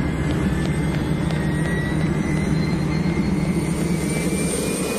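Steady, loud roar of a NASA high-altitude jet aircraft built to collect space dust, a continuous broadband engine rush with faint whining tones, running unbroken and alone throughout.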